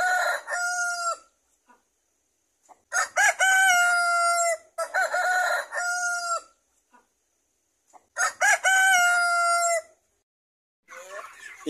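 Free-range chickens at feeding time, with a rooster crowing loudly and nearby in three long, harmonic calls separated by silence, and a brief clucking burst at the end.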